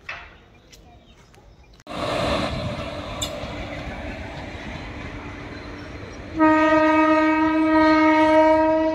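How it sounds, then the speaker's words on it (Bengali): A Katwa–Nimtita local passenger train pulls into Azimganj station: a sudden loud rumble of wheels and carriages, then a long, steady, close horn blast that holds to the end. "এটা হচ্ছে কাটুয়া নিমতিতা ট্রেন, লোকাল ট্রেন, কাটুয়া নিমতিতা যাওয়ার গাড়ি"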